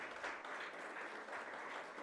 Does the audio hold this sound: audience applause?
yes